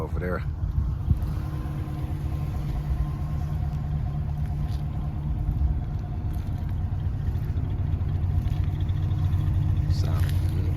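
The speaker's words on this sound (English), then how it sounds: "Sounds good. Got them dual exhaust." A 1994–96 Chevrolet Impala SS V8 with dual exhaust idles nearby, a continuous deep rumble steady throughout, with people talking over it.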